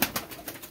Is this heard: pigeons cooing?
yes